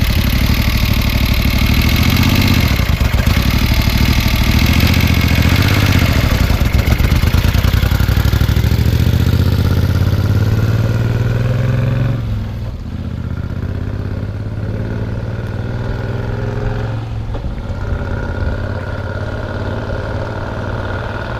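A 1973 Moto Guzzi motorcycle engine runs loud and close with a steady low throbbing rumble that eases slightly partway through, no talk heard.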